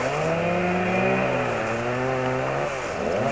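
A chainsaw runs steadily and loud up close, its engine pitch drifting slightly up and down as it idles and revs at a New Year's Eve gathering in Slovenia.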